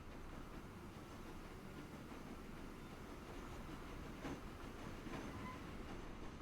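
A train rumbles along continuously in the railway simulation game Transport Fever 2, a steady rolling clatter with a couple of faint brief squeals near the end, no talking.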